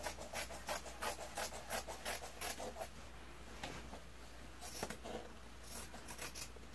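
Scissors cut through the cotton fabric of a men's dress shirt beside a felled seam, giving a run of quick rhythmic snips for about three seconds, then a few scattered cuts, close and fairly quiet.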